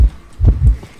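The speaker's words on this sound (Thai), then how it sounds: "ให้เสียงหัวใจดังมาก" Loud, booming heartbeat in a horror chase game: deep low thumps in a double-beat rhythm, close and heavy, with no talk over it.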